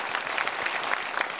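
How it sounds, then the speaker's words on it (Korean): A church congregation claps together to welcome newcomers, producing a short, dense, even burst of applause from many hands. "처음 오신 세 가족을 박수로 환영하겠습니다."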